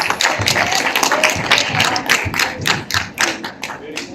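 Clapping from an audience at a youth summit in Lüderitz, loud, close and fairly dense, with individual claps standing out in an uneven rhythm over about four seconds.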